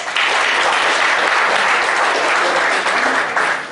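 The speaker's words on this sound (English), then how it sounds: "Please thank her with a round of applause." A seminar audience on annual returns and GST audit applauds the presenter, loud, dense continuous clapping from a full hall, close and sustained before tapering slightly at the end.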